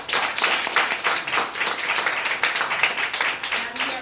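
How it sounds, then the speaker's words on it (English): Applause from an audience at a marketing event, dense clapping that runs steadily throughout at moderate loudness. "if anybody deserves a round of applause"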